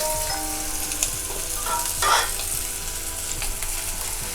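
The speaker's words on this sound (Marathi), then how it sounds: "कढीमध्ये तेल तापत आहे" Curry leaves and onion fry in hot oil in a pan for an egg curry, a continuous close sizzle with occasional stirring clinks and a brief louder crackle burst midway.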